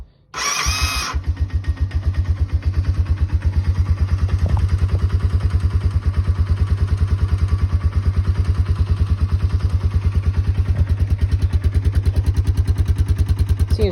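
A Honda Fourtrax 300 ATV engine cranks briefly and catches within the first second, then settles into a steady, loud, close idle with an even chugging pulse and no throttle blips.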